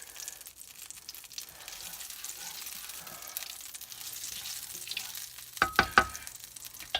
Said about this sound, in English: put a little bit of bacon grease in here, or olive oil, coconut oil, whatever you want to fry in.